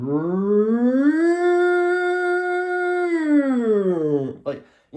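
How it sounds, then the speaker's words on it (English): A Midland weather radio alert siren: a loud, steady harmonic wail that rises, holds for a couple of seconds, then falls away, ending with a brief noisy burst. "Midland radios have that siren actually."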